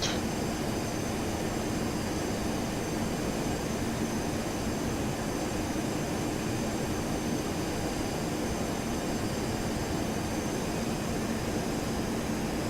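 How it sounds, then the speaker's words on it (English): Steady, loud cockpit roar inside a FlyJSim 732 airliner in a flight simulator game as the landing gear extends on approach, a continuous broadband rumble with no talking. "gears coming down"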